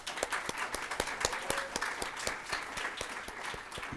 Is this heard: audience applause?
yes